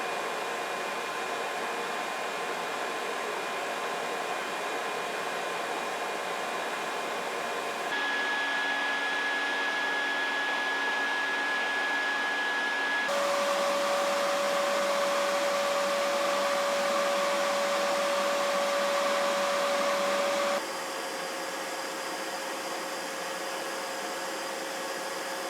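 A shop vac pulls suction through a long run of dust collection ducting, producing a steady, loud whooshing roar with a whining tone that shifts pitch in distinct stages, with no talking.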